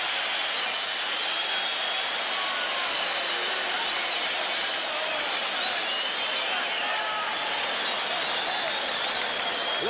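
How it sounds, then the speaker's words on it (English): A boxing arena crowd cheers and applauds after a fight, a dense, loud, continuous roar of applause and shouting that fills the hall for several seconds without a break. "Do you hear that crowd, Jake? What'd I tell you? Let's listen to that crowd,"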